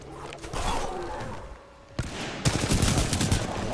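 Gunfire in the video game Titanfall 2, bursts of automatic fire and thuds that grow louder and denser toward the end, heard up close.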